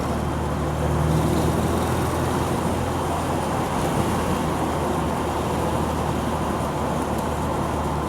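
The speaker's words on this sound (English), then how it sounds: "Going into fourth gear." A 1961 Chevrolet Corvette C1 shifts into fourth gear on the road, a steady, loud engine drone mixed with road and wind noise, heard from inside the car without a break.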